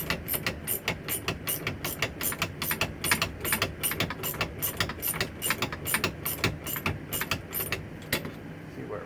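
A homemade strut spring compressor has its bolt tightened on a car strut, producing a steady run of rapid, evenly spaced metallic clicks up close.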